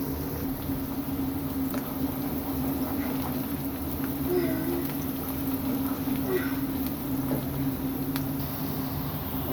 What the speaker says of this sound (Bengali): এখন পেঁয়াজগুলোকে আমি ভালো করে নাড়াচাড়া করে ভেজে নেব।